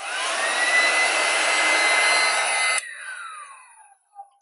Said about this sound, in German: So, jetzt gehe ich hier nochmal ganz kurz mit dem Föhn rein.